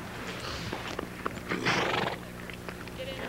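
Horses at a barn neighing and whinnying, with a longer, louder whinny in the middle and scattered hoof clip-clops and small knocks around it, heard at moderate distance with no talk.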